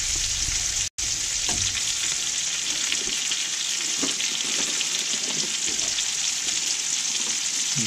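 Trout frying in a pan crackles and sizzles steadily and close, with a brief dropout near the start and scattered pops over the continuous hiss.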